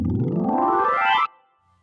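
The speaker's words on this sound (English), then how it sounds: "This is how you do a palm glissando." A fast upward palm glissando on Hammond organ keys, pitch rising smoothly for about a second, then cutting off abruptly into near silence.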